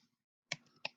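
Two crisp, close clicks of a computer mouse about a third of a second apart, alone against near silence.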